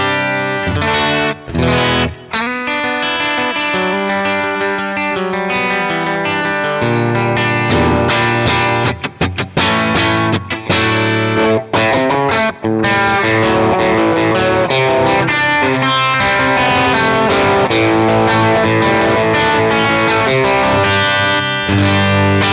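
Electric guitar played through an Axe-FX III Princeton Reverb amp model with a slightly stronger 808-style overdrive in front: a loud, continuous, lightly distorted chordal and melodic passage with chorus-like shimmer and a few brief pauses.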